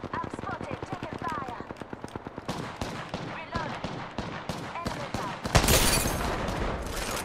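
Rapid video game gunfire, dense bursts of sharp cracks and automatic fire rattling continuously, with a heavier blast near the end and voices talking over the shooting.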